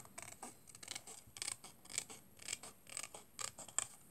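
Scissors cut out a paper bear shape for a handmade card, a quiet series of crisp snips in an even rhythm, about two per second.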